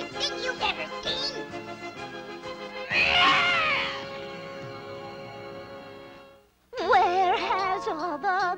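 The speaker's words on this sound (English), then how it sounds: "Stupid cat! I hate cats!" A cartoon cat meows and yowls in drawn-out, wavering cries, loud and near, first in short mews, then a long strained caterwaul, a brief silence, and another burst of wailing meows.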